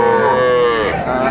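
A dairy cow at a village cattle market gives one loud, close, sustained moo that slowly falls in pitch, with no talk over it.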